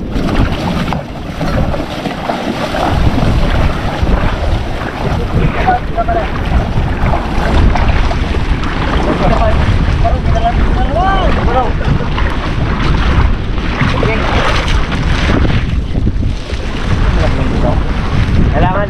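A boat pushing quickly through strong wind ahead of a typhoon, with loud, constant wind buffeting, engine drone and splashing water close by, and voices talking beneath the roar.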